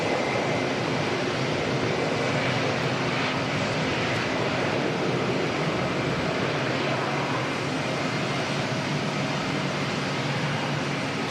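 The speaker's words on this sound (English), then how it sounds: "Qantas 3 on finals coming in from Sydney, 787-9." A Qantas Boeing 787-9 arriving from Sydney lands at Auckland Airport, a steady broad jet roar holding at even loudness throughout with no voices.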